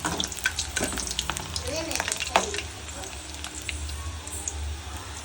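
Besan flour bondas deep-fry in hot oil with a constant, dense bubbling sizzle close up, broken by occasional utensil clinks and a brief faint voice in the background.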